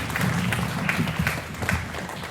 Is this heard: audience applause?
yes